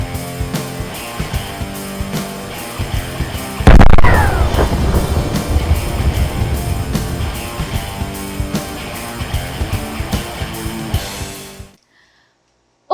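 A gunshot fired from a gun, replayed in slow motion: a sudden loud boom at about four seconds swells into a long, drawn-out rumble beneath sustained background music before cutting to silence.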